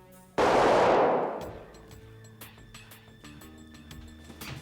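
A single loud gunshot from a handgun indoors in a crime-drama scene, a sudden blast whose echo decays over about a second, followed by faint room sounds and light clicks.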